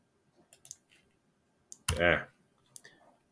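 Computer mouse clicks while working in Autodesk Inventor 2023 assembly software: a few soft, sparse clicks near the mic, with a brief burst of speech in the middle.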